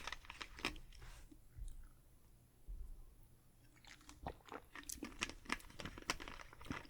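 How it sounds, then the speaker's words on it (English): Crunchy butter cookies being bitten and chewed close up, sharp crisp crunches in bursts with a quiet pause in the middle, no talking. "So we've had some crunchy cookies."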